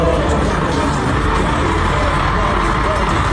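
A huge concert crowd at a show in Las Vegas screams and cheers in one loud, dense, unbroken roar of massed voices.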